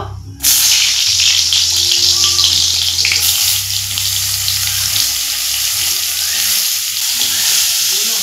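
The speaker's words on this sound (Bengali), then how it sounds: "এখন আমি পটলগুলো ভেজে নিব।" Pointed gourd (potol) rubbed with turmeric and salt drops into hot oil in a kadai, setting off a sudden loud sizzle that continues as a strong, steady close-up hiss with faint stirring and a low background hum.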